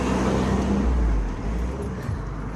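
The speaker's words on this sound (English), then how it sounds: "And another car." A car passes close by on a busy road near Massy's Estate outside Dublin, a heavy low rumble that swells loudly, then eases into a softer drone, with no talking.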